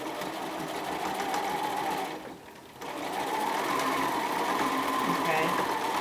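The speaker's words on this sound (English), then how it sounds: "what we're going to do is understitch through all thicknesses of the seam" A sewing machine runs steadily, close up, as it understitches through all thicknesses of a seam onto the pocket of a bomber jacket made from Simplicity pattern 8418. The whirring pauses briefly partway through, then resumes.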